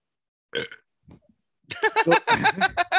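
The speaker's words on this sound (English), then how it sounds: "That was a lot of build up for that burp." A short belch, then a longer rumbling burp with several gurgling pulses, loud and close, with brief quiet gaps between.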